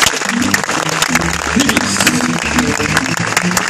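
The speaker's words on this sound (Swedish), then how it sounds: "Applåd för Pipis." Theatre audience applauding a stage performer, dense sustained clapping throughout with a voice speaking underneath.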